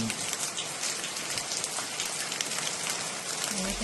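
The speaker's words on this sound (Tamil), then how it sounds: "மான்சில் எப்படி மழை பெய்யுது பாருங்க." Steady rain pours down over a home herb garden, a dense, even hiss of drops striking surfaces close by with no talking.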